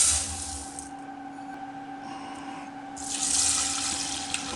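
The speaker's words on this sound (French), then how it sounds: "Mettre déjà de l'eau chaude." Hot water runs from a tap over rice for rice pudding, a steady rushing pour that eases off briefly in the middle before surging back louder, with no voices.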